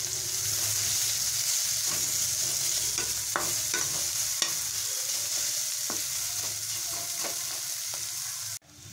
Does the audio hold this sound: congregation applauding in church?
no